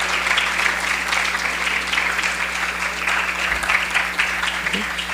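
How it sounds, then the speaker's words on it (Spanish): Dense, continuous applause fills a hall in honour of a congresswoman after her talk on international trade relations, steady and loud throughout with a faint low hum beneath. "vamos a darle un aplauso a la diputada"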